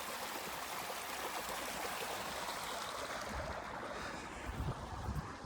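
Irrigation water rushes and gurgles steadily into a field bed nearby, a soft continuous flow with some wind buffeting, and a few louder splashes near the end.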